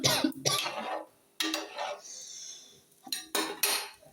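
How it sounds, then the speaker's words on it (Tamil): A spoon scrapes and clinks against a pot while tamarind water is stirred into a fish curry, in several short bursts of metallic knocking separated by brief pauses. "ஊற்றிட்டு நல்லா கிண்டி விடணும்."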